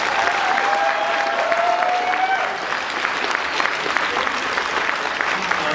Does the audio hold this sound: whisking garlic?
no